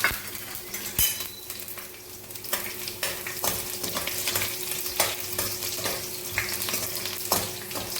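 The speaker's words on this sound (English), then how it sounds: "Let it fry for a minute or few seconds at least." Garlic pods fry in hot oil with mustard seeds for a traditional Marathi buttermilk dish, giving a steady close crackling sizzle, with a spoon stirring and scraping through it and a sharp metal clink near the start.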